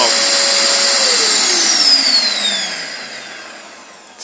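A small two-stroke lawn equipment engine, just cold started, revs high in a whiny, buzzing drone, then its pitch sweeps downward and fades as it winds down near the end.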